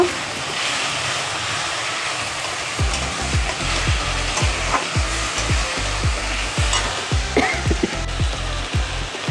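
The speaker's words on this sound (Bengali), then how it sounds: "মশলাগুলোকে ভালো করে কষিয়ে নেব।" Spices with tomato paste frying in a pan for a Bengali potato and pointed gourd curry, a loud continuous sizzle with rhythmic scraping strokes of stirring throughout and no voices.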